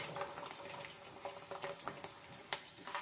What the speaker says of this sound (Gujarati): તેલ વધારે ગરમ હોય પછી તેમાં પાપડને તળવાના છે.